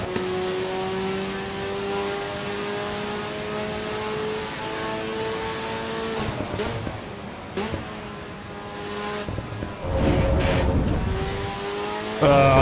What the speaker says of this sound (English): the engine noises on this thing are hilarious.